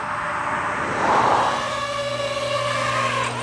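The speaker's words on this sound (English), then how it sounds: "Sorry for the noise, it's a bit much traffic here." Steady roar of busy road traffic close by, with a constant engine drone and a passing vehicle swelling briefly near the middle, no talking.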